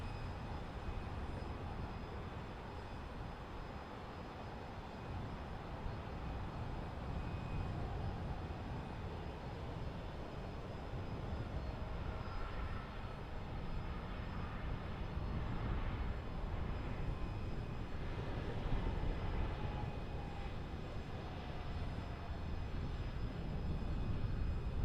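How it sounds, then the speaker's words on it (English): A jet airliner landing at LAX, a broad steady engine roar and rushing wind that swell slightly toward the end, distant and continuous with no talking. "Nice firm landing right on the button."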